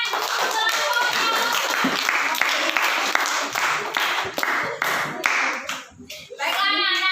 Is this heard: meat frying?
no